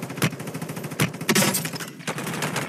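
Gunfire in the mobile shooter Warzone Mobile, a series of loud sharp shots and short bursts with rattling fire between them, close and dense.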